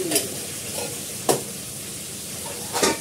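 Okra and potatoes sizzle steadily in a pan, with a few sharp scraping stirs cutting through the quiet frying hiss; no talking.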